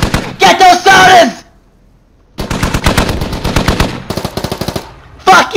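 In the video game Squad, a .50 cal machine gun fires loud, rapid bursts at close range, separated by pauses, while a voice talks over the shooting.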